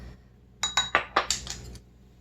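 A metal measuring spoon clinks against a container as a quarter teaspoon of yeast is added to warm water, a quick run of five or six bright, light taps up close.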